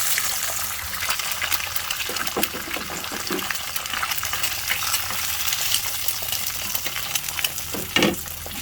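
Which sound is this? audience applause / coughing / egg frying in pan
egg frying in pan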